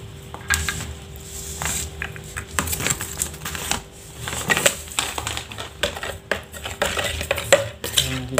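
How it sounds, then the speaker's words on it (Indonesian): A spoon stirs and clinks inside a container of plant spray mixture with repeated irregular scraping taps, close and fairly clear, with no talking. "Dan kita aduk-aduk."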